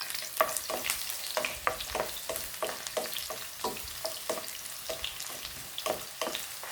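Garlic and ginger sizzle in a pan for beef adobo, frying steadily while a utensil stirs and scrapes in a quick, regular rhythm close by.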